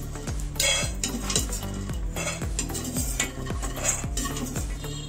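Roasted peanuts being scooped out of a pan, with repeated metallic scrapes and clinks of a spoon against the pan in a fairly regular rhythm, close and clear, with no talking.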